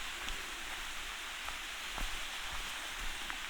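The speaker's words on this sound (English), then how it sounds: "So obviously we're coming down to some kind of stream here." A forest stream flows steadily along a trail in Tiadaghton State Forest, Pennsylvania, making a constant broadband rush of water with faint trickles and splashes, fairly close and without talk.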